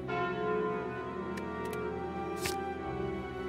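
A relic bell from the Slay the Spire video game rings out in a clear, resonant chime over a steady musical drone, with a brighter metallic strike near the middle.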